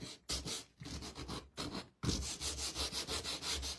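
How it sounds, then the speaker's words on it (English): A Gator sander is rubbed by hand over a wooden snow globe kit piece in quick back-and-forth strokes, close and fairly loud, with short pauses early on, then a steady rhythmic run of scraping passes. "I'm gonna get my gator sander and we're gonna sand this just a little bit"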